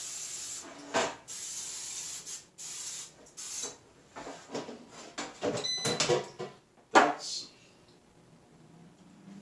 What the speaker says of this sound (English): All you need is a little spray of coconut oil